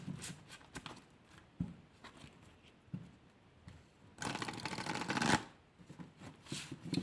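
Oracle cards shuffled by hand in several bursts of riffling, close and fairly quiet, with one longer, louder stretch of rapid shuffling in the middle.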